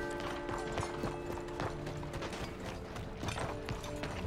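Horse hooves clip-clopping in Red Dead Redemption 2, a steady walking rhythm of close hoofbeats with faint creaking tack over a low outdoor ambience.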